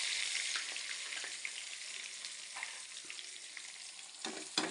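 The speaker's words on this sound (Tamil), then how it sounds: "நல்லா செவக்கிற அளவுக்கு ஆனில் வச்சு வதக்கும்" Curry leaves and onions sauté in a hot pan with a steady, bright sizzle, broken by a few soft scrapes and stirring knocks, no voices present.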